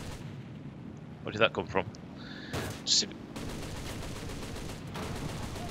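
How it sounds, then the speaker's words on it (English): In the War Thunder aircraft game, played in VR, gunfire hits the player's plane in short, punchy bursts mid-clip, followed by a duller rumbling stretch, while someone speaks briefly. "Whoa, I'm getting shot at."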